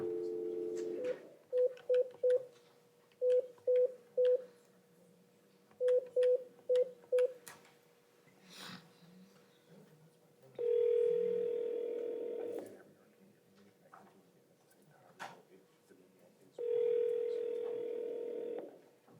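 A telephone call being placed from a courthouse bond court: a short dial tone, then three quick bursts of touch-tone dialing beeps, followed by two long ringback tones with a pause between, clear and fairly loud.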